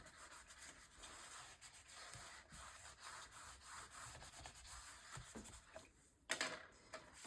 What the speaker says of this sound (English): And then I will burnish this down once it is straight.